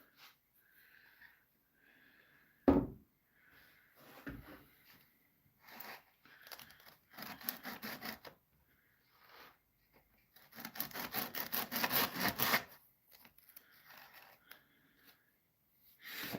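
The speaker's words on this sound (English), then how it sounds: "And I'm just going to sand them at 80 grit just real quick, just to knock stuff down a little bit." Redwood boards are hand sanded with 80-grit paper in a workshop, quiet irregular scratchy strokes in short bursts with pauses, one sharp knock early on and a longer steady run of rubbing toward the end.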